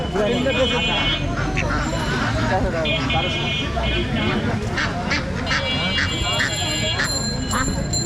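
Loud, continuous honking and quacking of many domestic ducks crowded close together at a market, with people chattering in the background.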